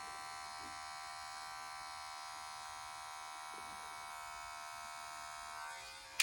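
Electric hair clippers cutting a low-to-mid taper fade: a steady, close mechanical buzz held at an even level throughout, ending in a brief louder click at the very end, with no voices.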